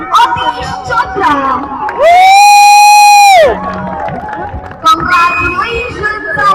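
A lively crowd cheers and chatters at a children's running race on a school sports day in the UAE, broken by a loud sustained whistle-like tone in the middle before the noisy cheering resumes.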